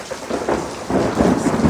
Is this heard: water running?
no